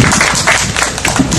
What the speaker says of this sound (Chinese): 咱搁一个掌声来鼓励好。